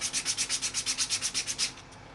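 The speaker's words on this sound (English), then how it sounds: "I take each piece and I rub it on a piece of sandpaper" A piece of wood rubbed back and forth on sandpaper, a quick rhythmic scratching of about a dozen strokes that then stops, close by.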